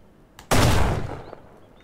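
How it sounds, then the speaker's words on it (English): A single loud, close gunshot from the survival game Mist Survival during a bandit cave raid, a sharp burst that rings out and fades within about a second. "I'm hearing two guns. And there's still someone shooting."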